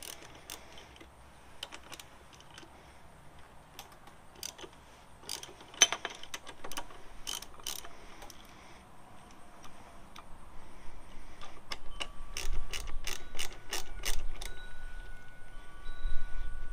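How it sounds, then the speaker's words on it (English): A ratchet wrench clicks in quick bursts while loosening a 12 mm brake caliper bolt on a motorcycle front fork, the faint close ticking rising and falling between pauses with light handling noise. "So the next thing I'm going to do is remove the brake caliper. It's a 12 millimeter."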